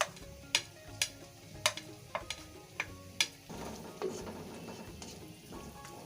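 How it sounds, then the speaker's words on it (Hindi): Two medium onions frying in hot oil in a kadai over a medium flame, with a string of sharp clinks and taps from a spatula, then a steady crackling sizzle. "इसके अंदर हम डाल देंगे प्याज और प्याज़ों को अच्छे से फ्राई कर लेंगे"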